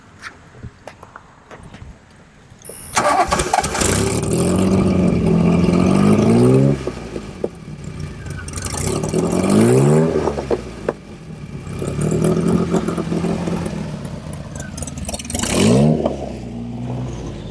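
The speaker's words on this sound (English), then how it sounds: "go ahead, start it up. We'll just do the exhaust check while we're here" After a few quiet seconds a 1981 DeLorean DMC-12 engine cranks and starts, then revs up and down several times with a rough, throaty exhaust note, close by.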